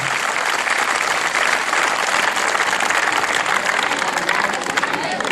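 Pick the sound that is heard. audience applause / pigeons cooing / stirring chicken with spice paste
audience applause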